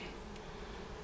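Honeybees buzz at the entrance of a hive box in a package colony, a faint, steady drone of many insects close by with no talk.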